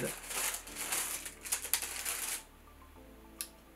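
Crisp rustling and crinkling of paper bags from a Power Rangers Megazord toy set being handled up close, in bursts for a couple of seconds, then quieter with one last rustle.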